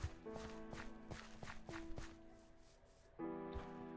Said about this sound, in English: Like crunching through leaves.